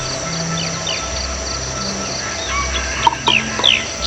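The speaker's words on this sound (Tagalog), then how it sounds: "Ay, yung ibon na nasa tubig." Birds call near water and rice fields over a steady chorus of insects, with a few sharp chirps and short descending calls standing out near the end.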